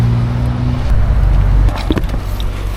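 A car on a Swiss roadside pulling onto the shoulder to pick up a hitchhiker, its engine rumbling close and loud with a low idle drone and a slight shift as it slows, with no talking.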